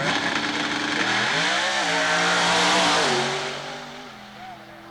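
A pro mod drag racing car's engine revs loud and close at a dragstrip, its pitch stepping up and down through several surges before the roar fades away at the end.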